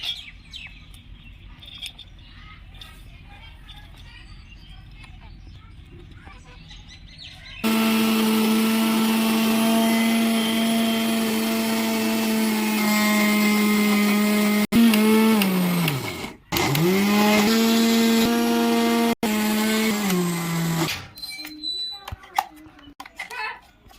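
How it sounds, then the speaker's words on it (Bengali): A mixer grinder whirs loudly and steadily for several seconds, coarsely grinding ingredients for motichur laddu, its motor pitch sagging briefly before it stops; quieter household sounds before and after. "এখন আমি মিক্সারে গুঁড়ো করে নেবো"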